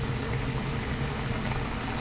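Butter shrimp sauce boils in a pot, a steady, dense low bubbling and simmering that stays even and continuous throughout at close range.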